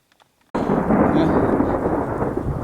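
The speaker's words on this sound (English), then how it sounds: "you can hear the thunder" Thunder rumbles loud and close during a heavy rainstorm at a deer-season hunting camp, a sudden broad roar breaking in after a moment of quiet and rolling on steadily alongside the rain.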